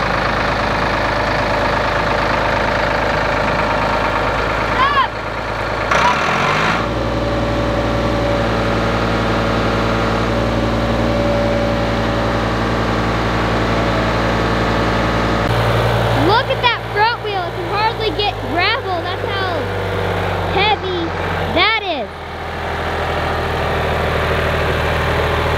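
A tractor engine runs steadily close by while it lifts a heavy tote, a low droning idle that shifts in pitch as the load is raised, with people talking over it at times.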